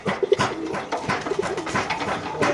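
Teddy pigeons coo in soft repeated bursts close by, several short rounded calls spread across a couple of seconds over a busy market-like background of rustling and faint activity.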